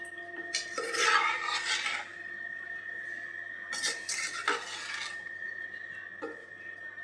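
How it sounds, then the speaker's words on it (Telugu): A ladle scrapes and stirs through Koramenu fish curry in a metal pot, giving gritty rasping strokes in a few bursts close by, with a faint steady hum underneath. "అలా గరిటతో ఒకసారి కలిపేసుకుందామండి."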